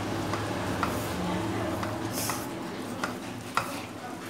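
Semolina and egg halwa with pistachios, almonds and other dry fruits is mixed in a pan, soft scraping stirs over a low, steady sizzle, close and fairly quiet.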